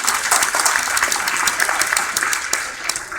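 Applause from an audience at a pharmacy graduate formal masquerade, a dense, steady patter of many hands clapping throughout, fairly loud and close, with no talk over it.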